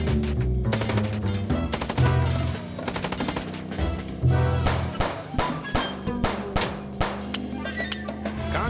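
Rapid gunfire bursts in the Chicken Police video game, loud repeated volleys and single shots stacked over a steady low music bed, with sharp cracks clustering around the middle and end.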